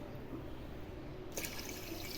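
Water is poured from a tumbler onto sugar in a pan to make syrup for badusha sweets, a faint steady trickling and splashing that grows brighter partway through, with no talking.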